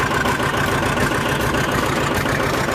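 A tractor engine runs steadily in low third gear, a continuous close mechanical drone with a low rumble that stays even throughout, no talking over it.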